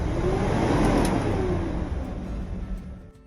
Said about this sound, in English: the accelerator going wide open when in park